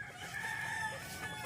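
On a chicken farm in Guerrero, Bauang, La Union, a rooster crows faintly at a distance over low background noise, a single short call with no talk over it.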